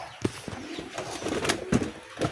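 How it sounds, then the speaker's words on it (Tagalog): Pigeons cooing close by, several soft throaty coos and a brief flutter over a short stretch, with faint background chatter. "Yung mga kalapati ko, guys."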